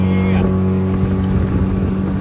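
A motorboat ride at a new amusement park in Kozhikode: the engine drones loud and close with a steady low hum, and rushing wind and water wash run through it without a break.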